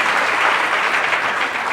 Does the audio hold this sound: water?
no